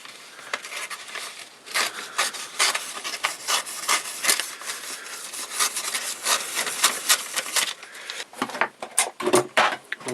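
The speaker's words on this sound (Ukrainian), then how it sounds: "ну на 400-му він вже цю промокашку ріже" A freshly sharpened knife, honed up to a 400-grit finish, slices through soft blotting paper in a run of repeated dry, raspy cuts close by, each stroke a short scratchy rub with brief pauses between.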